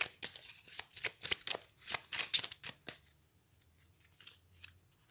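Tarot cards are drawn and shuffled, a dense run of crisp flicks and riffling snaps for about three seconds, then a few faint rustles in near quiet, with no talking.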